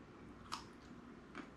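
A lacto-fermented garden carrot, with crushed garlic in the brine, bitten and chewed: a faint, close crisp bite, then a second softer crunch about a second later, over quiet room tone.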